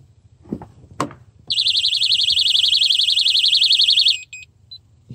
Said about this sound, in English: let's do a quick test of the Technaxx TX-100 car alarm